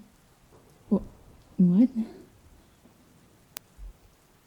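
Steady rain from a thunderstorm patters softly in the background throughout, low and continuous, while a voice speaks briefly over it.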